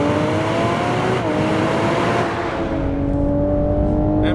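Inside a Toyota Supra on a track, the engine holds a loud, steady roar at full throttle, the pitch dipping once briefly and then rising again with no one speaking.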